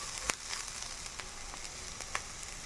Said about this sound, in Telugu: పసుపు వేసుకున్నాక కొద్దిసేపు వేయించాలి.